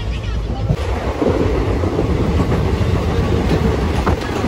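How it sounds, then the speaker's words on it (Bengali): A train rumbles past close by, with a loud, continuous low roar and rattle of rail cars that holds steady throughout, heard while riding on a rail journey. "ওই ট্রেনটা পাস করি আমাদের এখন"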